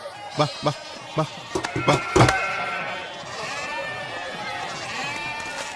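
Goats bleat in a run of short, sharp calls close by, then keep bleating more softly with wavering tones, with some crowd noise in the background.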